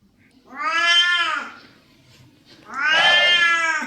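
A cat meows twice in long, drawn-out, wailing calls, close and loud, with a short quiet gap between them.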